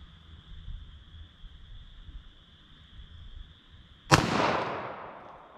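Single 9mm pistol shot fired into ballistic gel outdoors: one sharp, loud report with a trailing echo, after a quiet stretch of low background hum.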